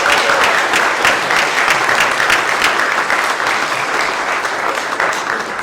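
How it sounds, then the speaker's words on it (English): An audience applauds at a high school JROTC award ceremony, steady dense clapping filling the hall at full volume throughout without a break. "Let's give them a round of applause."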